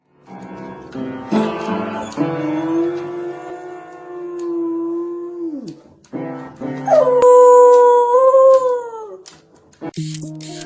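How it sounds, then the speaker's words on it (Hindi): A dog plays piano and howls along: plinking piano notes and chords mix with long, wavering, sirenlike howls that rise and fall, break off, then return higher and louder, close and clear. "आपने किसी कुत्ते को पियानो बजाते हुए और गाते हुए सुना है?"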